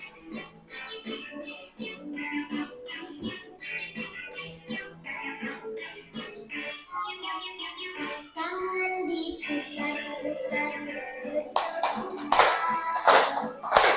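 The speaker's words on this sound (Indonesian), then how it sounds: "tepuk tangan dulu" A class of primary school children claps together in a room, bursts of hand claps mixed with children's voices and chatter, growing livelier and louder toward the end.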